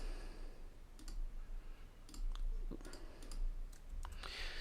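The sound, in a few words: computer mouse clicking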